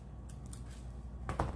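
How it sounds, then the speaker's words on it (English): Scissors snip prawns off for a tropical table arrangement: a few short, crisp cuts, faint at first, then a louder cluster near the end over a low steady room hum. "I'm gonna cut a few of the prawns off"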